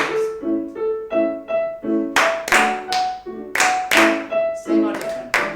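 A group in a music class claps a steady rhythm together, sharp close claps with sung or hummed notes mixed between them.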